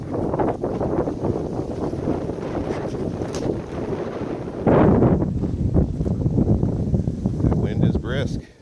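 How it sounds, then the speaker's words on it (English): Strong gusts of around 50 miles per hour roar across high ground during an April snowstorm hike, buffeting the microphone in a continuous loud rumble that surges stronger midway through. "Back with the 50-mile-an-hour winds though, now that we're up on high ground."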